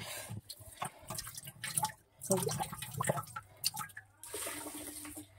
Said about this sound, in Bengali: আস্তে আস্তে পাইপ লাগিয়ে দিয়েছি, পাইপ লাগিয়ে দিয়াতে কিন্তু জলটাও কমে যাচ্ছে।